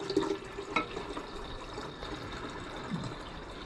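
Dissolved SMB solution poured into a gold solution in a small chemistry setup, a soft steady trickle and splash of liquid with a brief clink near the start.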